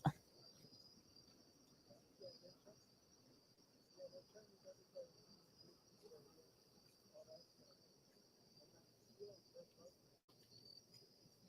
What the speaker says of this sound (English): Ooh, listen to those crickets.